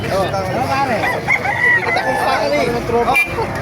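A rooster crows at a busy chicken market in Calumpit, its drawn-out call rising over clucking fowl, while people talk close by amid the crowd's babble.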